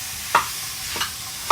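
Hamburger meat frying in a pan on medium-high heat, a soft steady sizzle broken by three brief stirring scrapes spaced about half a second apart.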